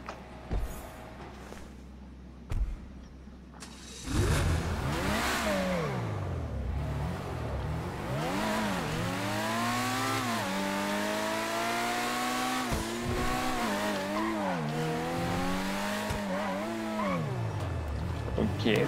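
A Bugatti Chiron in GTA 5: after a few quiet seconds with faint knocks, the engine bursts in and revs loudly, its pitch sweeping up and down through repeated accelerations and shifts.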